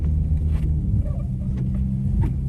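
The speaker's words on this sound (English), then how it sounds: "Yo, my car is sliding everywhere." A V6 Dodge Charger drives through a snow storm, sliding on the road, its engine giving a steady low rumble and drone close up inside the cabin.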